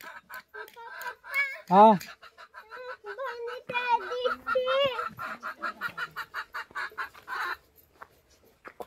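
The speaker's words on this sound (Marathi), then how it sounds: "चल सकाळी टाइम कोंबडं बाग द्यायला लागलं" A rooster crows in the early morning, one loud close crow followed by a run of rapid clucking and further strained calls, with a brief spoken interjection nearby.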